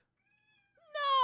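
A single cat meow rising out of near silence at the end, close and clear, preceded by faint high tones.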